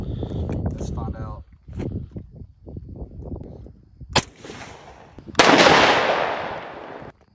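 A Chinese-built SKS rifle chambered in 7.62 fires into a cardboard target outdoors: one sharp, loud report followed by a long echoing boom, with people talking before the shots.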